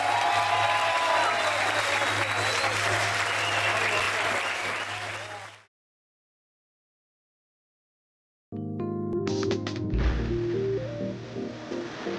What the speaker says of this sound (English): a big round of applause please to Trent Weeks